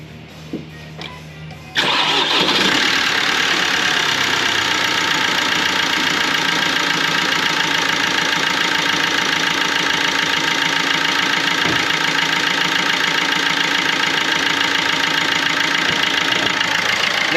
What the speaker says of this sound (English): that car now is ticking over like a little Singer sewing machine, and it is nice and quiet compared to what it was at the beginning of the video